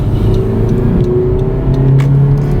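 A turbocharged car engine drones loud and steady from inside the cabin, its pitch rising slightly as it is brought up toward about 3,000 rpm, with no talking.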